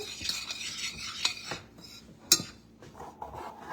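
A spoon stirs dry ingredients for gluten-free garlic cheese biscuits in a bowl, soft scraping and rubbing with a few light clinks of utensil on dish, one sharper clink standing out, fairly quiet and close.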